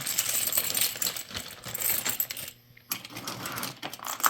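Diecast tender wheel sets for Lionel Hudson 2226 tenders clatter inside a dry tumbler, a dense, steady metallic rattling close up that drops out briefly before resuming, with no voices.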